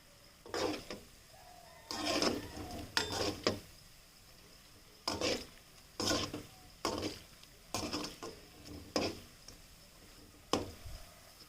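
A spoon stirs gulgule sweet fritters frying in oil over a low to medium flame, each pass giving a short scraping, clattering burst, repeated in an irregular rhythm with quiet gaps of faint sizzle between.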